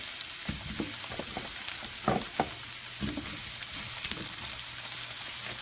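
About a pound and a half of zucchini sizzles in olive oil in a pan, a steady frying hiss with a few sharp pops and scraping stirs.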